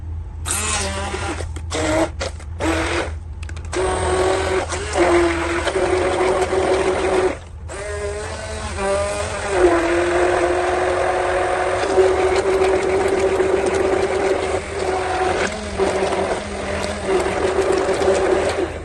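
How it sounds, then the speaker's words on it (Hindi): A kitchen grinder whirs loudly while grinding masala into a smooth paste for gravy, running in bursts with short stops and restarts, then a long steady whine with a shifting pitch. "तो ये देखिए मैं इसको ग्राइंड कर लूंगी।"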